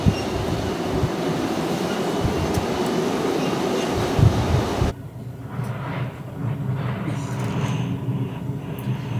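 Train carriage rolling through a hard snowstorm on the line toward Lapland near Abisko, a steady loud rumble with a sudden jolting shift midway, then a quieter rattling ride.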